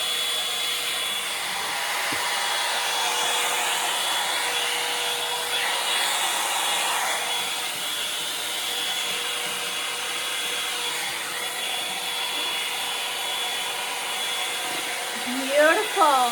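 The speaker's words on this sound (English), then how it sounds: "This hair dryer, this Landot brand is amazing." A Landot 4-in-1 hair dryer brush blows with a steady, loud, continuous airy whoosh that runs unbroken throughout, with a brief voice near the end.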